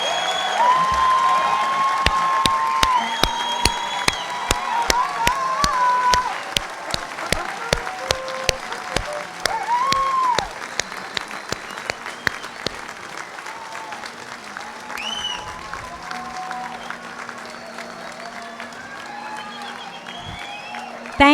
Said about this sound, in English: Would the class of 2017 stand and turn and face guests for one last round of applause from those gathered here in your honor?